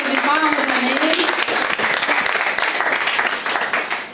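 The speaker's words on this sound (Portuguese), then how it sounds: "mais uma salva de palmas, amém?" A church congregation applauds the pastor with dense, continuous clapping at close range, loud from the start and easing off gradually, while a voice briefly speaks over the opening.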